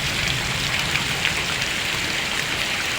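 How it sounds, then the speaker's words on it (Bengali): Steady rain falls continuously, a dense even hiss of drops on surfaces with no voices, close and fairly loud throughout. "বহুদিন পর গরম থেকে রক্ষা পেয়ে জল পড়ছে আবার বৃষ্টি হচ্ছে আর কি"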